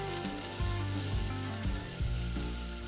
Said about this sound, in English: I'll add the chopped onions and I'll saute it until it turns